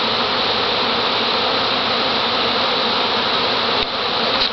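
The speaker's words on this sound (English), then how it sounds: "just millions of bees." A dense, steady buzzing of a huge bee swarm fills the air, loud and continuous with no pauses, only a brief dip near the end.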